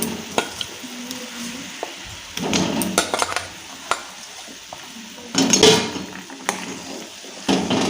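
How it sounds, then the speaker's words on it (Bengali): Boiled potatoes go into a frying pan, with clattering spoon and pan knocks, scraping stirs and bursts of sizzling at irregular intervals, close and moderately loud, with no talk. "এই আলুগুলো এবার আমি এর মধ্যে দিয়ে দেব।"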